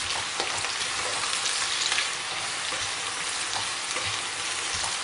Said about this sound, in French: ça commence à grésiller